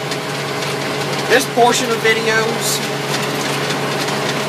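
A tractor mowing a third cutting of hay runs with a steady mid-pitched engine drone, while someone talks over it close to the microphone.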